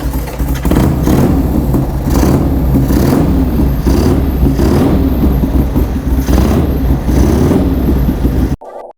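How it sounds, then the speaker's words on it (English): A Harley-Davidson Ironhead engine in a Metisse frame runs loudly nearby with a lumpy, pulsing beat, rising and falling in revs for several seconds before cutting off abruptly. "So let me start it for you so you can hear what this beast sounds like."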